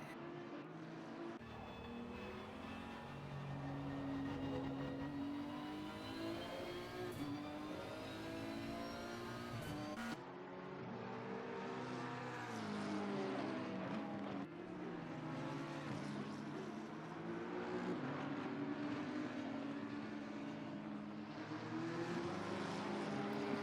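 Race cars at the Nürburgring in a racing game drone and whine as engines rev up and down through the gears, with layered tones from several cars sweeping in pitch, steady and fairly loud throughout.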